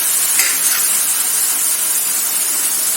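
Chili powder is stirred into softened tomatoes frying in a pan for ridge gourd curry, giving a steady, close hiss and sizzle that continues without a break.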